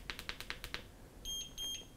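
ECOROAD EC6 electric scooter controller re-enabling cruise control: a few soft clicks from button presses, then two clear electronic beeps, fairly quiet and close.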